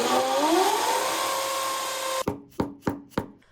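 A power drill bores into a bathroom wall to mount a shower hose, first a loud continuous whine that shifts in pitch, then four sharp rhythmic bursts as the bit bites in short pulses.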